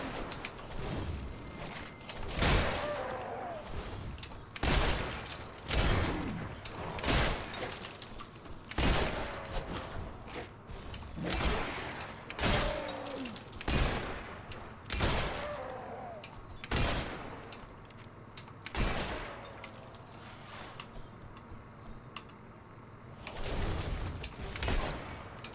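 Rapid gunfire from a Hollow Man killing gun in the video game Fable 3: a string of sharp, loud shots in irregular bursts over about twenty-five seconds, with brief gaps between volleys.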